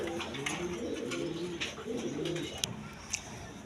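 Pigeons coo nearby in soft, repeated low calls, with a few sharper clicks and rustles among the birds. No voices are heard.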